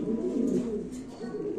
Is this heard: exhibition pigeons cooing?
yes